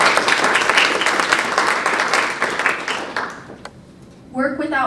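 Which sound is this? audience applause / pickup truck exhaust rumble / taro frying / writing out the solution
audience applause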